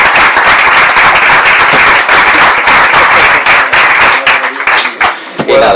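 Loud, dense audience applause at an outdoor charity run for Syria in Santander, steady clapping for about five seconds before thinning out and fading near the end.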